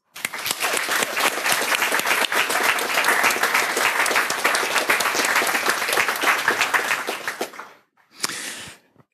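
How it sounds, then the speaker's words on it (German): An audience applauds after a student project presentation at a Jugend hackt youth hackathon in Ulm, with dense, loud sustained clapping that fades out near the end before a short final burst. "Und da bitte ich nochmal um Applaus."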